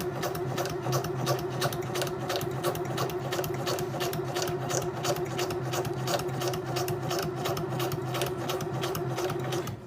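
A sewing machine stitching fabric with a steady, rapid mechanical chatter, even and continuous for about ten seconds, close and alone with no talking.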